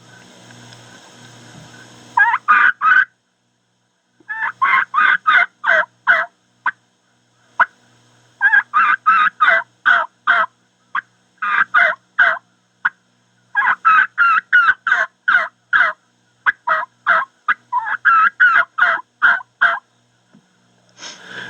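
A raspy Split V3 turkey call imitates a young gobbler's slowed yelping, delivering many loud, close runs of hoarse yelps in steady clusters separated by brief gaps.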